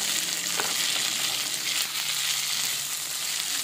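Cucumber pieces for a Mangalore-style cucumber chutney fry in a pan on the stove, giving a steady, even sizzle and hiss that fills the whole stretch without pause, with no voices.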